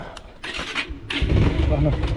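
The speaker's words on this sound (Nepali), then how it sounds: "अब साथीहरू टक्क लाएर बाइक स्टार्ट गरौँ" A motorcycle engine cranks and catches, then settles into a loud, close, rumbling idle.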